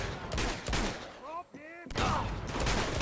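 Bursts of gunfire in the video game Uncharted 2: Among Thieves, loud and close. The shots come in clusters, and a brief whistling ricochet sounds in a short lull in the middle.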